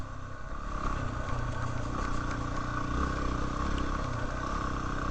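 KTM motorcycles, a bunch of orange bikes, ride past on a Colorado road: a continuous mid-pitched engine drone with mechanical clatter, fairly close and steady over five seconds.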